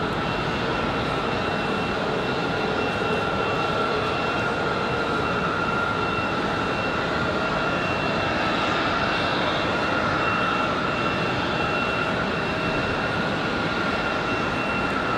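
Boeing 737 MAX jet departing runway 5 left at Raleigh-Durham International, a steady broadband engine roar held at constant loudness throughout with a faint whine on top, sounding moderately distant.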